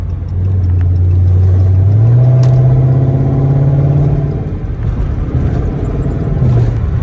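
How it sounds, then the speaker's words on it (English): A Dodge Charger Daytona R/T's exhaust rumbles low and throaty as it drives, the tone rising with revs and then easing off, loud and close. "why the fuck can I hear my exhaust like that?"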